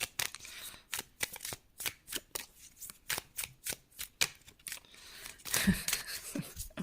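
A deck of tarot cards shuffled close by in a rhythmic series of quick riffling bursts, then a longer rustle near the end, with no talking.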